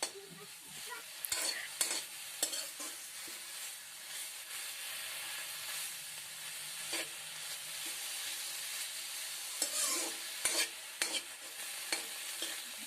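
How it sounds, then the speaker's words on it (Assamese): Pumpkin leaf chutney sizzles softly in a pan while a utensil stirs it in irregular scrapes and clinks. Frying hiss runs steadily underneath, and nobody speaks. "পুনৰ এইখিনি এবাৰ লৰাই লৈছো।"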